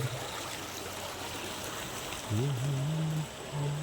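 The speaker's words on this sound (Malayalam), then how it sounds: "വീടിന് തൊട്ട് താഴെയുള്ള ഒരു തോട്" A small stream just below a house runs with a soft, steady rush of flowing water at moderate distance, joined near the end by a brief low humming voice.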